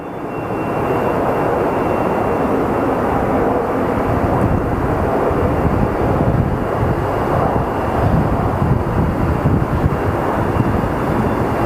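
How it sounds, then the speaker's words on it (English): Southwest airliners land at Phoenix Sky Harbor Airport, heard as a loud, continuous jet engine roar with rumbling wind noise that holds steady throughout. "we are starting to get an entire line of Southwest arrivals, so let's follow the landing"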